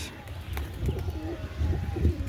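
Domestic pigeons coo softly in a low, throaty murmur, several overlapping calls close by amid faint background noise.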